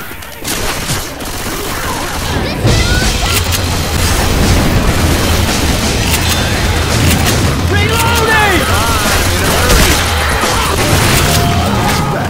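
Rapid gunfire in Left 4 Dead 2, during The Parish campaign as survivors cut through a park. Dense, loud volleys of shots and booms continue without a break, with game character voices calling out over the racket.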